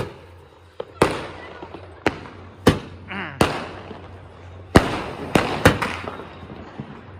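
A 30-shot Diwali fireworks cake fires in a string of sharp, loud pops, roughly one per second with some quicker pairs, each followed by a crackling tail, heard outdoors up close.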